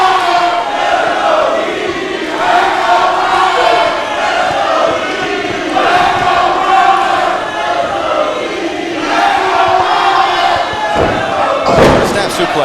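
A wrestling crowd roars during a championship title match, a loud, sustained cheer rising and falling in waves, with shouts and occasional thuds from the ring and a sharp slam near the end.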